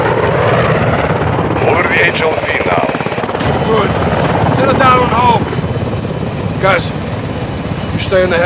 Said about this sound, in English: Stay in the heli on overwatch.